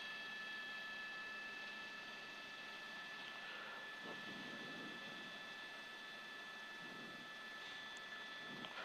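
Inside a news helicopter flying over the Burbank and Hollywood area during a police chase, a constant, faint, even rotor and turbine drone fills the cabin with no other distinct sounds.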